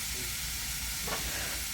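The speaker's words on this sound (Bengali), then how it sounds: "আজকে যেরকম তেলাকুচার ভাজি হচ্ছে" Ivy gourd (telakucha) frying in a pan, a steady, close, even hiss of sizzling oil throughout, with a brief brighter crackle partway through.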